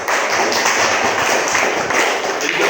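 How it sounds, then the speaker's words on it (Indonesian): A classroom group claps for the first presenting group, a dense, loud burst of many hands applauding steadily throughout. "tepuk tangan untuk kelompok 1"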